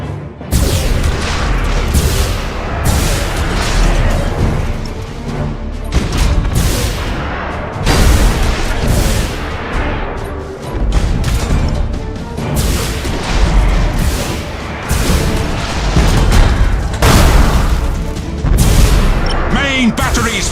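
Main batteries of an Imperial warship firing in Battlefleet Gothic Armada 2, with a dense, continuous barrage of heavy booms and crashing impacts rumbling loudly for about twenty seconds and no pauses.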